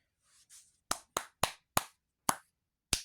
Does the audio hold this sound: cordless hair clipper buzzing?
no